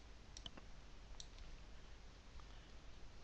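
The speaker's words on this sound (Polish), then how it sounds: "spację wciskam na klawiaturze, aby przesunąć" A few light clicks from a computer keyboard as the space bar is pressed, quiet and sparse over a faint background hiss.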